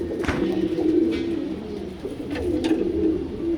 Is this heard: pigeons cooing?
yes